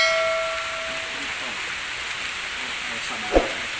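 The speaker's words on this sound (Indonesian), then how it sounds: "Hujan" Steady rain hisses evenly throughout, at moderate loudness, during an outdoor candlenut (muncang) contest, with one brief knock near the end.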